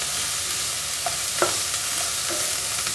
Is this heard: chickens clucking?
no